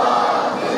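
Dense crowd roar from a large religious rally gathering, a brief loud surge of many voices shouting together, close and sustained with no single speaker standing out.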